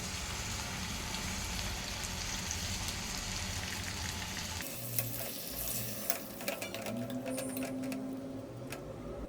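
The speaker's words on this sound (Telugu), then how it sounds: "ఇప్పుడు మిక్సీ పట్టుకున్న ఈ మసాలాను ఇందులో వేసేసుకోవాలి" Ground masala paste for a capsicum curry hits a hot pan with steady close sizzling and frying, followed by lighter stirring and scraping sounds as the sizzle settles.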